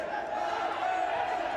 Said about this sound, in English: Listen to the roar of the crowd as Nadir returns